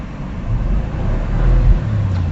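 A Bentley Continental GT's 500 hp V8 gives a deep, steady engine rumble with a low throbbing idle, swelling slightly in loudness before settling, close by with no voices.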